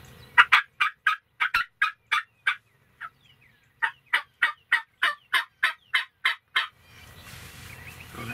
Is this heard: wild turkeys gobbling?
yes